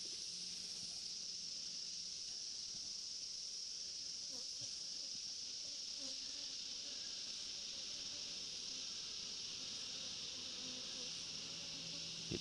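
Honey bees hum around an open hive with drone frames, a faint, steady high-pitched buzz that continues without a break under soft background noise, with no talking.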